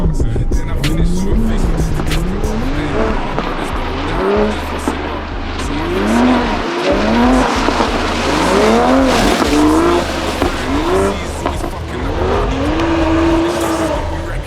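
A Toyota Supra drifts sideways on a skid pad, its engine revving up and down in repeated rising sweeps with tires squealing, loud and close, and some talk underneath.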